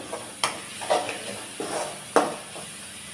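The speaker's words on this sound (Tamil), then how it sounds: "எல்லாத்தையும் சேர்த்து நல்லா வதக்கி விட்டுடலாம்" Tomatoes with spices are sautéed in a pan for a chicken fry, giving a soft background sizzle broken by a few distinct scrapes and clinks of a stirring spoon.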